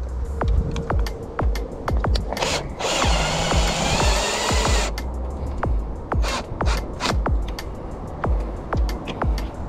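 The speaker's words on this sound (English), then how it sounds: "let's try to get these screws in here" Screws being driven while installing a keyless door lock, with repeated sharp scraping and ratcheting clicks up close, and a longer steady grinding rasp in the middle.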